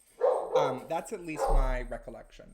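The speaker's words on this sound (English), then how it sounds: "Sorry for the dog barking." A dog barks at home, defending the house, its barks mixed in under a person talking close by.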